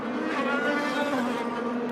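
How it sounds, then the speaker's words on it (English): An IndyCar race car rolls down pit road at the Detroit Grand Prix, its engine note sounding odd and strained, a steady rough buzzing drone held for the whole moment without a pass-by swell, no voices over it. "You can hear the car sounding very differently coming down pit road."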